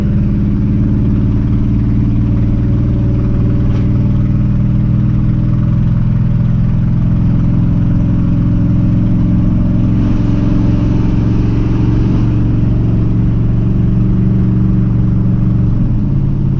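A 1980 Chevy C10 pickup with a 700R4 automatic transmission accelerates through its gears, heard from inside as a loud continuous engine drone that rises and eases with the shifts, without voices.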